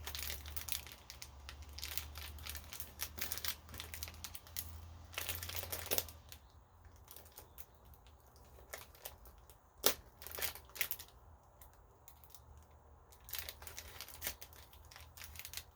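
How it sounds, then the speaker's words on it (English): Thin napkin paper being torn and crinkled by hand for altered-book crafting, with bursts of crisp ripping and crumpling, a pause of quieter handling, then more scattered tears and rustles up close. "Oh, this paper rips real easy."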